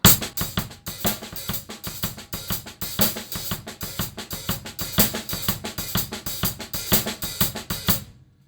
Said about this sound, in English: Add the ghost notes, and the whole thing sounds like this.